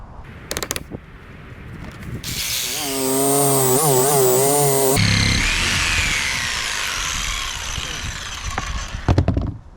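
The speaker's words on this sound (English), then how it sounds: "Still got to sand this piece." A power sander works a wooden piece in a workshop with a loud, steady grinding roar that holds for several seconds and then shifts in tone, with clunks and handling noise before and after.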